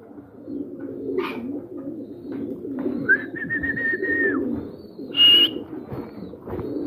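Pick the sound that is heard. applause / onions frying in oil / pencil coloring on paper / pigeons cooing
pigeons cooing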